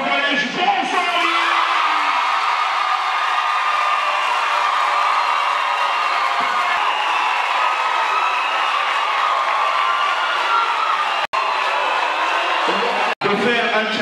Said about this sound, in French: D'accueillir avec une salve d'applaudissements le collège Bonsoir.